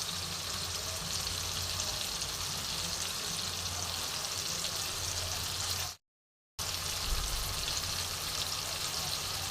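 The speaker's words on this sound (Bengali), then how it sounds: "এইবার দেখো খুব সুন্দর করে আমি এটাকে কষে নেব।" Spiced cabbage mixture for cabbage-and-chhana kofta curry sizzles and fries steadily in a pan, a continuous close crackle broken by one brief silent gap.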